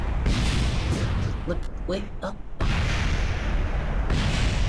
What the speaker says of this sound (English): At least we had a nice big explosion.